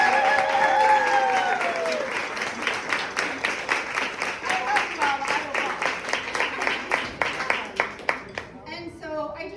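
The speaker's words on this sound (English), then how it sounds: "applause for them" Applause from a crowded room at a book launch party, with a voice over the first part and clapping that grows sparser and more distinct as it tails off, ending with talk.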